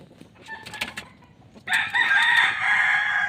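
A captured native rooster clucks softly in short bursts, then lets out a loud, close crow that carries to the end.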